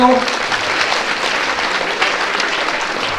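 Loud, dense applause from an audience at a free cataract surgery camp event in Vrindavan, a steady wash of many hands clapping throughout with no pauses.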